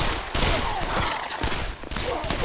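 Rapid gunfire bursts in the VR shooter Pavlov VR, several sharp shots in quick succession against a busy, dense game soundscape.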